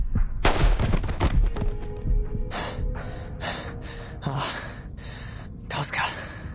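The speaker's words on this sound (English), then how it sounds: "Gunshot." Several sharp gunshots crack out in the Reverse: 1999 video game, sudden bursts spaced over a few seconds, loud and close among other game effects.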